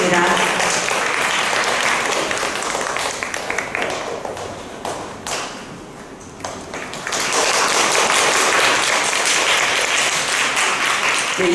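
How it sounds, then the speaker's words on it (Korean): An audience at a food education fair talk concert applauds as a chef is welcomed onstage, loud sustained clapping that dips briefly mid-way and then surges back, with a voice faintly heard under it. "큰 박수 부탁드리겠습니다."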